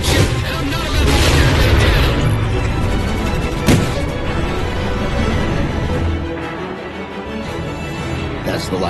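A loud, dense battle blast from the Halo 4 video game, a heavy boom around four seconds rising from sustained rumbling and crashing game sound that fades slightly toward the end.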